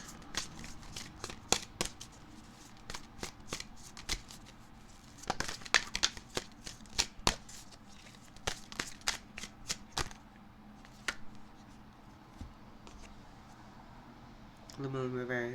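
Tarot cards are shuffled in quick, crisp riffles and bursts of flicking, fairly close and moderately quiet, with pauses between rounds and a brief rustle at the end.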